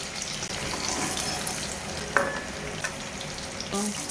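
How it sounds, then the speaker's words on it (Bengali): Paneer frying in rice oil with a little butter in a home kitchen pan, a steady soft sizzle with occasional spatters and the clink of a utensil stirring, faint and close with no talk. "বাবা বলছে পনির ভাজার জন্য, তো ভেজে নেবো হালকা করে"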